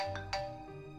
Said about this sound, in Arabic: تليفونك مش مبطل رن